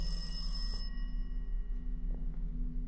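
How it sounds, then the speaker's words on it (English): A telephone rings somewhere in a building in the Welcome To Kowloon video game, a muffled repeating ring that sits low under a steady droning ambience, with no talking. "There's a phone somewhere."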